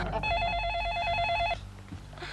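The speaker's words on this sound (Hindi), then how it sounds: "अरे वो प्रेमा, उसकी बीवी को फोन करो ना।" A telephone rings once after a call is placed, a short warbling electronic tone lasting just over a second, fairly clear before dropping to quiet room sound.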